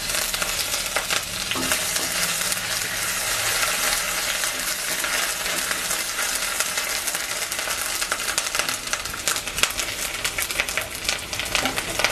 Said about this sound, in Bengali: তারপর হাফ চামচ আদা পেস্ট দিয়ে দিচ্ছি